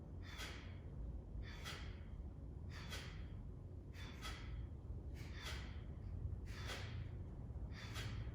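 Slow pranayama breathing done with the Vayu mudra: seven evenly spaced, drawn-out breaths, each an airy hiss close to the microphone, about one per second apart, over a low steady background rumble with no talking.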